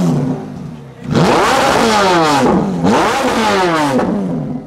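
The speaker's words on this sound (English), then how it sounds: "And I just love the sound of any Ferrari." A Ferrari engine fires up after a brief pause and revs hard twice, loud rising and falling roars close by, settling to a throaty idle between blips.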